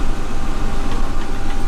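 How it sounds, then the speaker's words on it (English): A Kubota Grand L6060 tractor engine runs loud and close, a steady low diesel rumble with mild surges as the throttle comes up, heard alone without talk. "you can hear the throttle up with the tractor"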